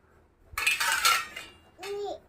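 Ceramic plates and dishes clink and knock as they are set down and stacked upright by hand in a home kitchen, two short bursts of clatter close by, with no talk over them.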